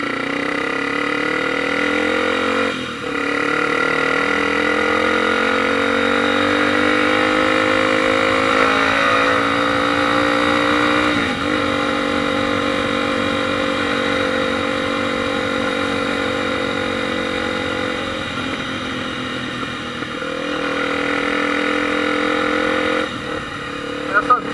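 A Honda Shadow motorcycle engine drones loudly and continuously while riding, its pitch rising and falling as the rider revs through gears, with brief dips in between.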